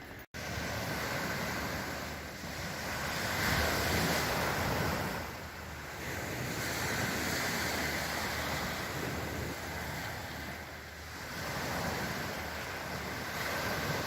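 Sea waves wash steadily onto an empty beach in Sicily, a broad continuous surf roar swelling and easing in slow cycles, with wind rumble on the microphone throughout.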